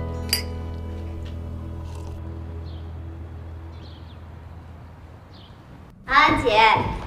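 Glasses clink once in a toast, a short bright chime near the start, then a quiet stretch before voices break in loudly at the end.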